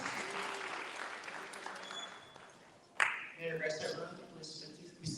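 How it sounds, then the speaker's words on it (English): Audience applause at a Grade 12 graduation ceremony builds suddenly after a quiet moment, a moderate spread of clapping from a seated crowd that continues to the end, with a faint voice beforehand. "Let's greet him with a resounding round of applause."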